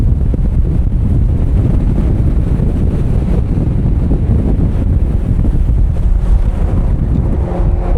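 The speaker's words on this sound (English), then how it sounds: "that's windy, all right." Strong wind roars loudly and steadily across an open stairway on the deck of a Sunflower overnight ferry bound for Hokkaido, with buffeting gusts and faint water noise beneath, and no voices.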